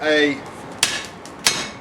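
A forging hammer with a rounded die ground into its face strikes a hot knife blade in a home forge: two loud, sharp, ringing blows about half a second apart, with metallic ring trailing from an earlier strike.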